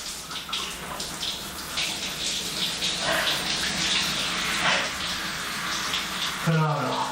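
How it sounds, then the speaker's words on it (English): Cold shower running steadily in a home bathroom while it snows outside, a continuous broadband hiss of spraying water at close range that lasts throughout, with a brief voiced sound near the end. "It's just a shower"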